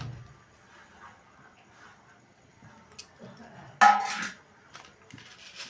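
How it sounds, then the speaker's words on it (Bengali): Soaked ingredients are tipped together into a bowl, a short sharp clatter and slosh near the end after a stretch of quiet, faint kitchen knocks. "আমি এখন ভিজানোর পরে সবগুলোকে একসাথে বাটিতে ঢেলে দিচ্ছি"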